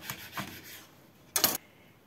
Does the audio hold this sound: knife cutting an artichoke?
yes